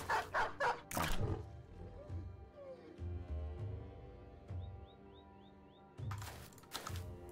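A war dog in the Battle Brothers video game gives a few quick, fairly close barks and yips at the start, then fainter whimpering sounds with some game noise behind them.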